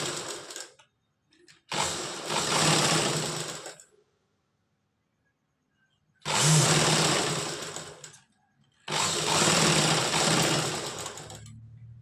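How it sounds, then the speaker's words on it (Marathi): A sewing machine stitches fabric for a blouse latkan along three sides, running in loud, close bursts of rapid whirring with short pauses between them and no talk. "तर 3 बाजूनी हे टिपा मारून घ्यायच्या आहेत."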